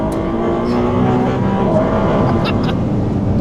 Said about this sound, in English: even at low revs, it almost sounds like a baby V12 and not a traditional V6